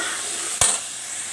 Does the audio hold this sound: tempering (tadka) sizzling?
yes